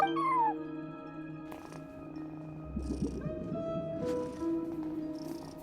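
A cat meows briefly at the start inside the video game Genshin Impact, a short rising call over steady game music that continues alone afterwards.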